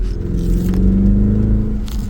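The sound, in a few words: Jeep Grand Cherokee SRT8 driving while running the brakes to clear rust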